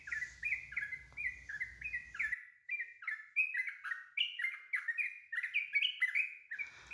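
A sooty-headed bulbul chirps in a rapid, repeating run of bright, sweet notes, close and clear over near-silence.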